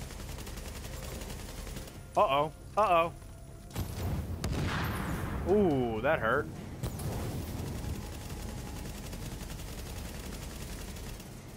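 Gunfire in The Division during a hard-difficulty subway morgue mission, with bursts of shots and impacts mixed under excited talk from players.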